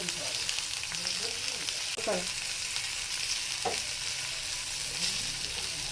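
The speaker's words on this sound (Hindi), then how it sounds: "हल्का सा प्याज को आपने भूनना है" Chopped onion fries in hot oil with a constant crackling sizzle, and two short scraping stirs of a spoon cut through the steady hiss.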